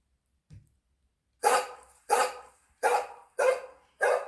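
A dog barks five times in a steady rhythm, loud and close, after a short faint sound and a pause.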